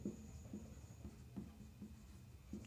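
Pen or marker writing on a board in a different colour during a Hindi language lesson, soft repeated scratchy strokes in a steady patter, quiet and close, with no speech.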